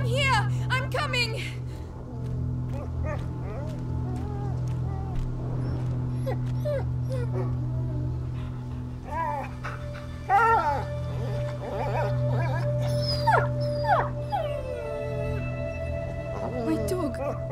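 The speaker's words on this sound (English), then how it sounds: "My dog!" A dog whimpers and whines in distress in the video game A Plague Tale: Innocence, its high cries rising and falling over a steady low drone and ambient game sound for most of the clip.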